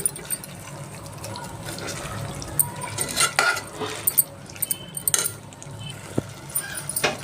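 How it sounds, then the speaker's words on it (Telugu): Masala paste of dried coconut, garlic and cardamom being stirred into mutton in a cooking pot, with scattered utensil clinks and wet scraping, moderately faint and irregular. "వేసేసి బాగా కలుపుకుంటామండి"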